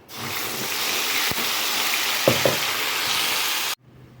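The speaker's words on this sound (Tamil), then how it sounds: "இப்போ இதில் இந்த அரைச்சி வச்சுருக்க பேஸ்ட்டை இதில் ஊற்றலாம்" Ground masala paste is poured into hot oil with fried fenugreek and cumin and sizzles loudly and steadily for several seconds. A few clinks of a spoon can be heard before the sound cuts off abruptly.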